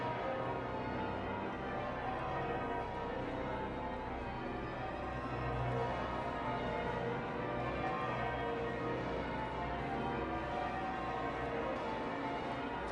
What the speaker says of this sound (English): The bells of St. Paul's pealing in the daylight